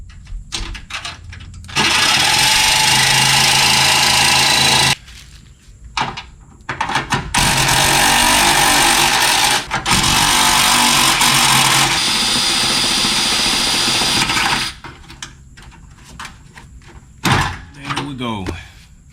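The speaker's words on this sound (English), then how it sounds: "pivot the jigsaw to cut around" A jigsaw cuts through the front section of an Acura Integra Type R, running in several loud, sustained bursts with short pauses between them as the saw is pivoted.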